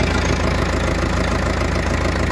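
Four-cylinder tractor engine, a new DG-branded unit with power steering, idling steadily with a dense, even low rumble and faint knocking texture, close and loud, alone with no talk.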